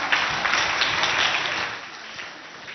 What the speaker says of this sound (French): on va applaudir très fort pour eux d'abord